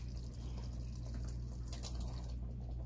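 Liquid from a pot of drained meatballs pours steadily into spaghetti sauce, a soft continuous wet rush under a low kitchen hum, near and moderately loud, with no talking.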